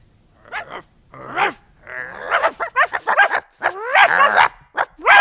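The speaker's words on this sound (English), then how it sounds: "The dogs are barking." Dogs on a farm at night bark, yip and growl in quick irregular bursts, loud and close, with whimpering tones mixed in.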